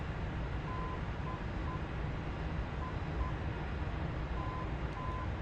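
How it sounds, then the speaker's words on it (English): Faint Morse code beeps from the navigation system in the cockpit of a DCS F-4E Phantom II flight simulation, short and long tones in irregular groups under a loud, steady jet engine roar. "We're getting the Morse code beeps"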